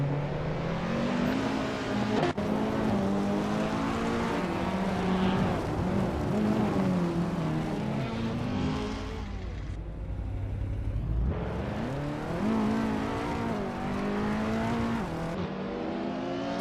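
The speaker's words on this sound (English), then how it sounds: "The race is heating up with multiple overtakes happening rapidly." Race cars overtaking in a racing video game, engines droning and revving continuously with shifting pitch, one car briefly easing off before accelerating again, no voices.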